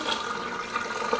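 Water being poured while making dumplings, a steady gurgling stream at moderate level, with no voices over it.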